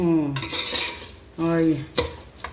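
A metal spoon stirs cucumber softening in a little oil in a pan, with two scraping, clattering passes of utensil against metal, a sharp knock near the end and a faint sizzle underneath.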